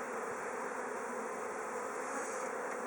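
Honey bees buzz steadily at an open hive while a frame of emerging and capped brood is lifted out, a dense, even drone that fills the whole moment with no talking.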